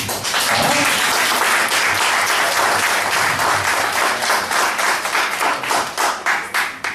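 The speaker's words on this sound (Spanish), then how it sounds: "¿Por qué no dar un voto de aplausos?" A room full of people applauds loudly and steadily for several seconds, the clapping thinning into separate claps toward the end.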